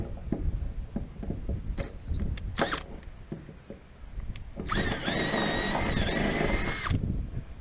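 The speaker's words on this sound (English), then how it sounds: "I'm going to have to drill that one, I believe." A power drill bores into a trailer wheel chock strap mount. Several short whirring bursts come first, then a longer, steady high-pitched drilling run, with clanks and shuffling handling noises close by.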